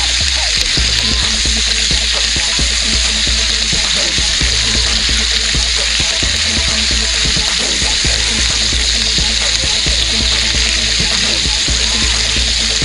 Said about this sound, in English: You want to saute your onions until they are translucent.